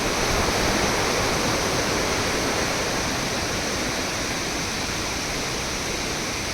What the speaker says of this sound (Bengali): দেখুন একটা ঝর্ণা কি সুন্দর লাগছে আজকে ঝর্ণাগুলো একটু তেজ কম